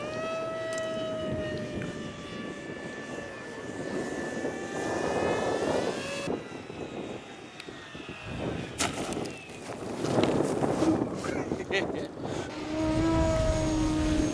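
An electric RC model airplane with partly broken nose gear steering flies overhead at the NWRCC field, its motor giving a loud, sustained whine that rises and falls in pitch as it passes and banks, with no talk.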